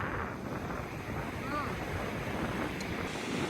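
Ocean water surges steadily at Bodega Bay during crabbing, a continuous broadband wash of surf mixed with wind noise on the microphone, loud and close throughout.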